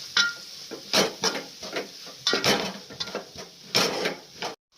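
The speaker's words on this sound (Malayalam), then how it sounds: "അത് നമുക്ക് ചെറിയ ഒന്ന് ഇളക്കാം" Spoon clinks and scrapes in a pan as pepper powder and coriander powder are stirred into chicken curry masala for Kerala chicken mappas; irregular close clatters with brief sizzling, no talk.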